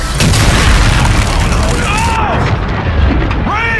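Heavy weapons fire and a massive explosion in Call of Duty Infinite Warfare roar continuously as a loud, sustained rumbling boom, with whining sweeps layered over the blast.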